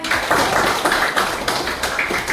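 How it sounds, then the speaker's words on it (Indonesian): Classmates in a fifth-grade Indonesian language lesson clap for a student, a dense, steady patter of many hands filling the room for a couple of seconds without talk. "tepuk tangan tuh Asya"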